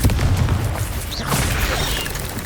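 Blasting spell explosion in Hogwarts Legacy gameplay, a dense, noisy burst of rumbling booms and crackling debris that fades over a couple of seconds.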